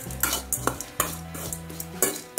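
Vallarai (spinach-like) leaves with coconut and tamarind stirred in a pan, a spoon scraping and clinking in short repeated strokes over a faint sizzle, close and fairly quiet.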